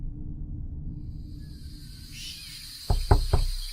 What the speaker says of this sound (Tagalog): may narinig naman kaming katok mula sa pinto at boses ng babae